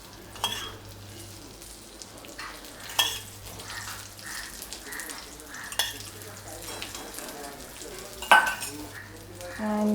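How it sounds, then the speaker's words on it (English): Brinjal slices fry in oil in a pan over medium-low heat, a steady sizzle running throughout with occasional utensil clinks and scraping taps; a person speaks briefly at moments. "let it fry on medium to low heat"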